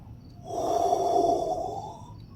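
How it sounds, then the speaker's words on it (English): A single long breathy yawn from a man, swelling and fading over about two seconds, close and fairly quiet. "Sorry about the yawn."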